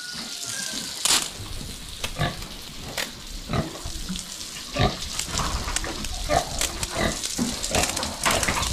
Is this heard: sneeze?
no